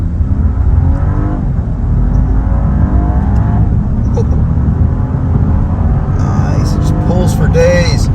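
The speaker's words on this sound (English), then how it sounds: "we could probably try an acceleration off the line right here" A 2023 BMW 740i accelerates hard from a standstill, its engine note a steady low roar rising in pitch as the car pulls away, with people talking over it inside the cabin.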